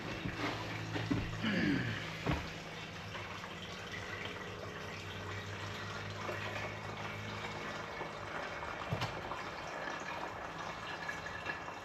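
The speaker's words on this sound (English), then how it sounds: "I hear water flowing over, which is good." Water from a shower supply line running into a bucket during a vintage Airstream restoration, a steady splashing pour that rises briefly at the start and then flows on evenly, with faint background noise.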